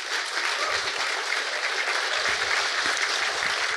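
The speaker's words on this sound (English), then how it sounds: "So give yourself all a round of applause first" Awards audience at an expo applauding themselves, a dense steady roar of clapping that fills the whole stretch at an even level.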